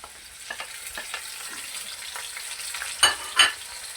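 Chopped tomatoes dropped into a pan of softened onions and garlic, a soft low sizzle with light stirring scrapes, then two sharper hissing bursts near the end as the tomatoes hit the hot oil.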